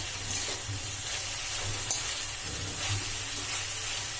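Cabbage pallya stirred in hot oil in a pan, a continuous frying sizzle with soft scraping strokes of the spoon and one sharp clink partway through, with no voices.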